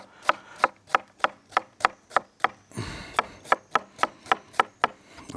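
Knife chopping fresh cucumbers on a cutting board for a summer cold soup, close and steady, about fifteen sharp evenly spaced cuts with a brief pause of scraping midway.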